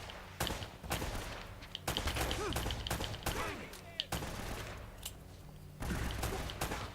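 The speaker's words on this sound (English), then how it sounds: "is she still shooting these guys?" Gunfire in the video game Uncharted: Drake's Fortune rings out as a series of sharp, loud shots and short bursts, spaced irregularly with brief lulls between volleys, over a low ambient game rumble.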